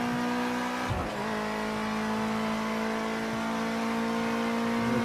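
Ginetta G40 Junior race car engine in the Project Cars 2 racing game, a steady droning rev held throughout with a brief throttle blip and gear change near the start, loud and close with no talk.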